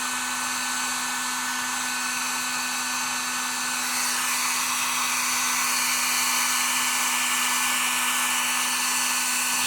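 A heat gun warms interior plastic parts from a vehicle, giving off a steady, close, unbroken airy blowing roar with a fixed hum. It runs alone with no talk and gets slightly louder partway through.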